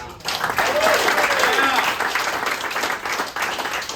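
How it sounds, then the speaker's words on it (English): Comedy club audience applauds the comics, a dense wash of clapping starting abruptly and holding steady, with some voices and faint whoops mixed in. "Please give an applause to all the comics tonight."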